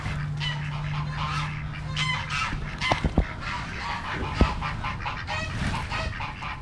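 Hungry ducks and chickens calling while waiting for food, a busy mix of honks, quacks and clucks from several birds nearby, with a few sharp louder calls standing out.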